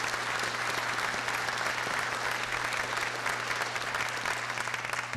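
Audience applause at a state representative candidate forum, steady dense clapping that holds evenly throughout over a low electrical hum.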